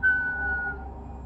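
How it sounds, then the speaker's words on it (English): A person whistles a brief little tune, two short faint tonal notes near the start, then only a low background hum. "just whistle a little tune"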